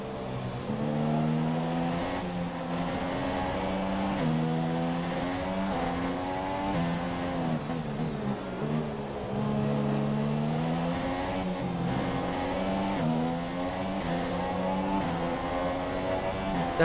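Race car engine in F1 2017 career mode at the Russian Grand Prix, loud and continuous, its pitch climbing and dropping through gear shifts as the car accelerates, with no voices over it.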